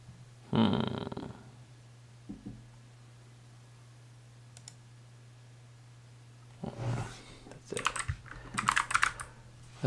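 Typing on a Planck custom mechanical keyboard, quiet clicky keystrokes in short bursts near the start and in a denser flurry toward the end, with a low steady hum underneath.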